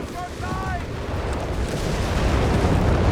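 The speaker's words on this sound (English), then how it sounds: "2 howitzers plus airburst shells that are being unleashed" Rumbling howitzer artillery and airburst shell explosions from the Company of Heroes 3 strategy game, a dense continuous roar of blasts that grows louder, with a few brief whistling tones near the start and voices faintly underneath.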